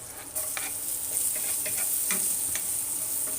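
Garlic sautés in a pan, the sizzle jumping up loudly as it starts and holding a bright, steady hiss, with light rhythmic scrapes of a utensil stirring through it.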